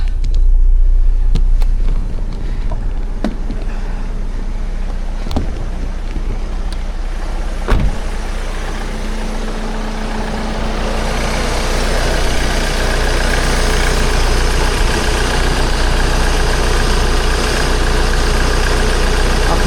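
Engine of a 2012 Ford Transit van running during power steering bleeding, with a loud, steady low idle and several sharp clicks and knocks early on, then a rising, rougher whine as the engine keeps running.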